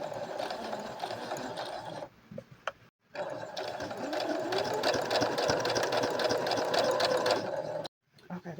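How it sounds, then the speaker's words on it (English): Sewing machine running a straight stitch while hemming the bottom of a dress, a close steady mechanical whir with a brief pause, then a long continuous run that stops abruptly. "It's on a straight stitch, nothing extra special going on here. This is the bottom that I'm about to hem of my"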